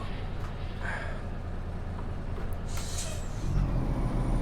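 Truck air brakes in a trucking video game set in Arizona, a steady loud hiss over the low rumble of an idling or rolling diesel engine, with the engine swelling louder near the end.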